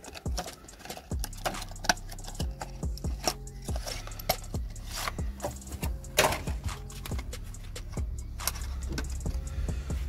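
Cardboard and plastic packaging rustling and tearing open around a mountain bike stem, with sharp clicks and crinkles close by in an irregular run, no talking.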